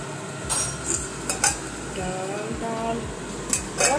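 Prawns frying and being stirred with spices in a pan, with utensils scraping and clinking against the metal in repeated strokes over a low background sizzle, close by.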